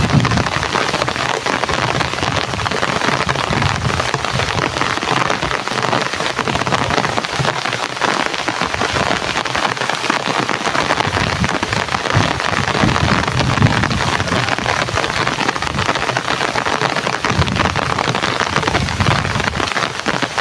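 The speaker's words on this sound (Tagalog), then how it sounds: "malakas talaga ang ulan" Heavy rain pours down steadily, a dense, loud, unbroken hiss of drops pounding a surface for the full twenty seconds, with no voices.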